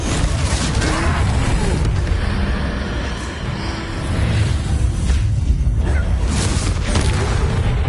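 Confringo explosive spell cast in the video game Hogwarts Legacy during a troll fight: dense booming blasts and whooshes roll on without pause amid heavy combat noise, loud and close throughout.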